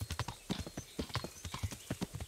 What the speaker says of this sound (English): and buy myself another horse.